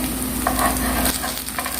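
Aloo tikki potato cutlets frying in a pan give a steady, close crackling sizzle throughout, with faint stirring clinks and no talking.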